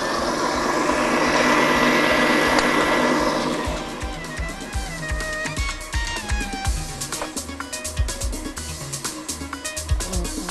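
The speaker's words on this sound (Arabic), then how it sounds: "فبمضرب كهرباء بتاع بيض او خلاط اي حاجه مفيش مشكله" An electric hand mixer whirs steadily while beating eggs with sugar and vanilla for cake batter, then gives way to clattering kitchen sounds and scraping of utensils against a bowl.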